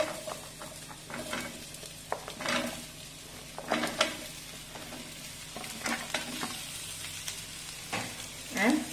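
Chopped French beans, drumstick pieces and onion go into a hot pan for South Indian sambar, giving a steady sizzle broken by scraping stirs and clinks of utensils against the pan.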